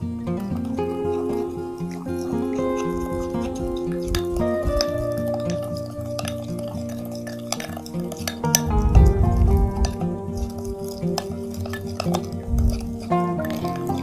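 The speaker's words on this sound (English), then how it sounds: "Now we need to mix well all the ingredients until all the ingredients combine very well together." Steady stirring and clinking in a bowl or pot while salt is mixed with other ingredients until it dissolves, a soft continuous scraping with light tapping over background music.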